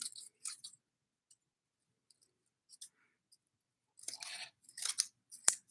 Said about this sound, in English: And all I'm gonna do is cut off these bristles.